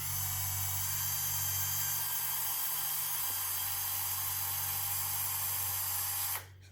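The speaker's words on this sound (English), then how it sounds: "I just happen to have a battery drill. We're just going to withdraw the 2 bolts." Battery drill withdrawing two bolts from a shaded pole fan motor, a continuous high whirring whine close by with a low steady hum beneath, running without pause before stopping abruptly.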